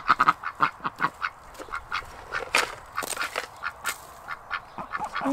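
Ducks in their enclosure quack repeatedly while being fed snails, a busy run of loud, close, overlapping quacks with short pauses.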